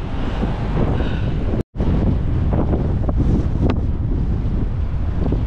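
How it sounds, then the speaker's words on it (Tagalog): Strong wind buffets a microphone during a mountain bike group ride in Budaiya, Bahrain, a loud, continuous low-heavy rumble that drops out briefly once before resuming, with no voices. "Mahangin."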